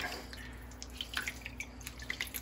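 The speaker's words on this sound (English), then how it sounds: "And just continue to drain the liquid." Liquid from a squeezed, fermented Louisiana-style hot sauce pepper mash drains in quiet, steady drips and trickles into a bowl, close but faint.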